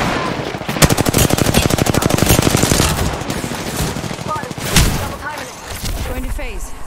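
Dense automatic gunfire in the video game Apex Legends, a sustained rapid rattle of shots for several seconds, then scattered bursts and thumps, loud and close in the battle mix.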